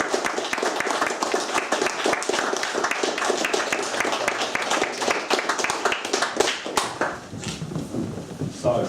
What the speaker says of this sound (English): So I think they really deserve a big round of applause.